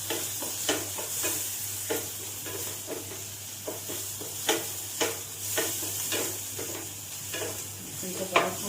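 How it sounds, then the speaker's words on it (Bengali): Garlic frying gently over a low flame for homemade pizza sauce, a soft continuous sizzle broken by repeated stirring scrapes in a steady rhythm. "লো ফ্লেমে এটাকে করব, একটু ভাজবো। রসুনটা দিয়ে দেবো।"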